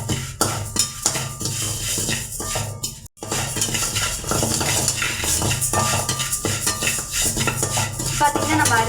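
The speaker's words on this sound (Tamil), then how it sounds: "பார்த்தீங்கன்னா நம்ம அரிசி நல்லா வறுத்து எடுத்துட்டுங்க." Dry rice roasting in a pan for homemade coriander powder, loud scraping and clattering of a spoon against the metal pan with grains rattling, continuous stirring with a brief pause partway through.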